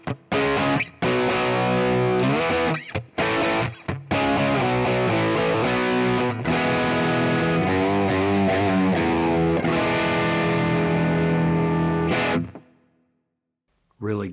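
Electric guitar through a Fractal FM3, FM9 or Axe-FX III preset with Marshall cabinets gives a distorted classic rock tone with chorus, with loud sustained chords and melodic bends played alone before ringing out to silence.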